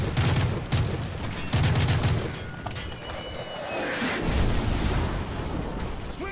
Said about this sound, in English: they are shooting at me and hitting metal